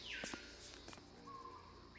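Birds call in the Nancy Drew video game, with a few sharp chirps and a drawn-out whistled note over a low ambient background, fairly faint and unaccompanied by voices.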